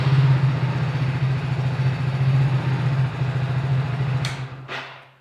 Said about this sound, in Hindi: जो बाइक है उसको एक बार स्टार्ट करके और देख लेना।